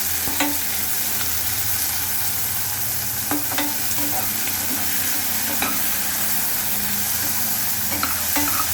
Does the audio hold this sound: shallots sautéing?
yes